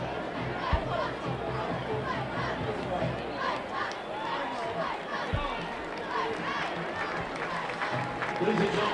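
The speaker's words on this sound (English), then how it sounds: "Crowd starting to get loud" High school football stadium crowd at night, a dense, steady roar of cheering and chatter holding throughout, with an announcer talking over it.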